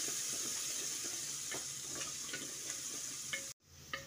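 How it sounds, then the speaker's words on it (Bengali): A large chopped onion frying in a pan and browning to a reddish colour, with a steady sizzle under scattered clicks and scrapes of stirring. A brief sharp drop to silence comes near the end before the sizzle returns. "পেঁয়াজটা দিয়ে ভালো করে মিশিয়ে নিচ্ছি। পেঁয়াজটাকে একটু লালচে করে ভেজে নিচ্ছি।"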